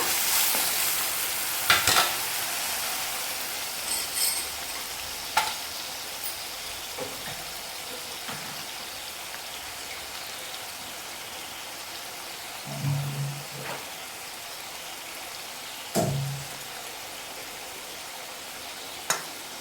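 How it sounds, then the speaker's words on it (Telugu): Ginger garlic paste frying in a pan for an Andhra-style egg and dried fish curry, a steady soft sizzle with occasional stirring scrapes and a few louder clanks, no talking. "ఇలా బాగా వేయించుకోవాలి అల్లం వెల్లుల్లి పేస్ట్ని, లేదంటే పచ్చివాసన వస్తుందండి."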